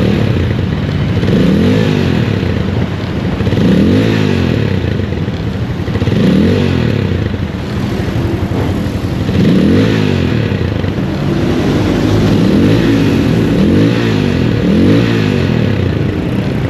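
A Rusi Flash 150 carbureted underbone motorcycle engine revs repeatedly up and down, close and loud, rising and falling in a steady cycle of throttle blips.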